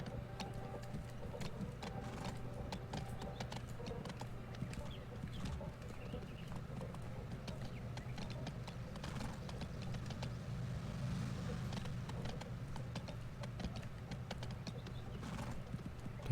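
Horse hooves clip-clop steadily in the Go Vacation video game, a quick even rhythm of soft knocks that continues throughout over a low background drone.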